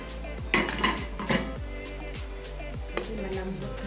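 Chunks of taro drop into a pot of simmering nilagang pork ribs, giving a few clattering knocks and metallic clinks against the pot over a low, steady background hum.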